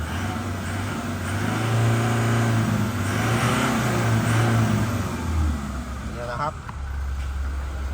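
A 2017 Toyota Revo pickup engine running steadily, a loud, close, continuous mid-range hum with a faint rise in revs, while someone talks over it.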